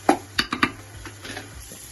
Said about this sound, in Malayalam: അപ്പോൾ ഇതൊന്ന് നല്ല രീതിയിൽ വഴറ്റാം നമുക്ക്